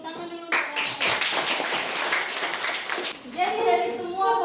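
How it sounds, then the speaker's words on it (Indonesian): Clapping for children in a classroom during a lesson on separating mixtures, with a burst of claps from many hands over chatter and young voices, followed by an adult speaking. "tepuk tangan dulu untuk anak-anak"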